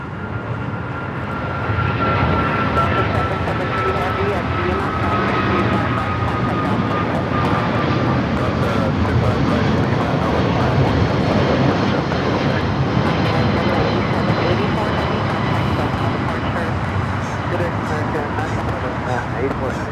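An American Airlines jet departing Los Angeles International Airport bound for JFK roars with a steady, distant engine rumble that holds for the whole stretch, with faint radio chatter in the background.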